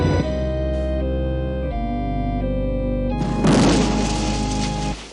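A lit firecracker goes off in a pocket in King's Quest 7, a loud burst of crackling noise over a steady game music bed before it trails off.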